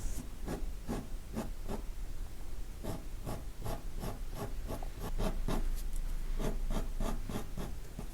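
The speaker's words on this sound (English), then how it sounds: "You may even do some shading using the pencil as well." Graphite pencil, soft B grade, shading on paper for a watercolour eye study, giving steady rhythmic scratchy strokes, close and continuous, with no talk.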